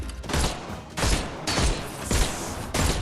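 Rapid bursts of gunfire from a Sherlock Holmes Chapter 1 video game fight, loud and close, with four or five clustered volleys about half a second apart and no talk.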